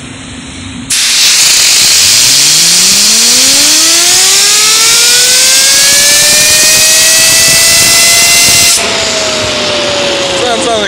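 Compressed air blasts a fidget hand spinner, which spins up into a loud jet-like whine rising steadily in pitch over a roaring hiss, holds near its peak, then cuts off abruptly, leaving the hiss.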